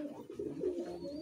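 Madrasi high flying pigeons coo in a loft in Kolkata, a steady low rolling murmur of overlapping calls that swells and dips across the moment, fairly close and with no voices.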